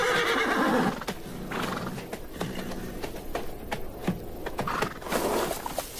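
Wild horses in an African herd neighing, with a loud whinny opening and then steady hoof clops and snorts, close and clear with no talk.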